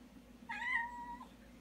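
A cat gives a single clear meow in a workshop where a mill is being set up, short and fairly close, against faint background hum.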